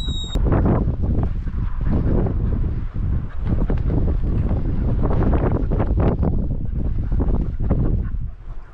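Strong outdoor wind buffets the microphone during a rabbit hunt with cocker spaniels, a loud, continuous roaring rumble that gusts and surges throughout.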